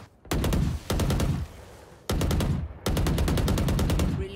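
Rapid automatic gunfire from a tactical shooter game comes in four loud, close bursts of quick shots with short pauses between them, and no talking.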